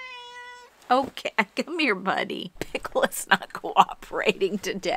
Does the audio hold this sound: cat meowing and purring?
yes